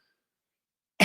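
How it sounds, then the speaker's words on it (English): A single short, sharp cough bursts out at the very end after near silence. "Let me have a sip of my drink so that I can stop coughing for you guys."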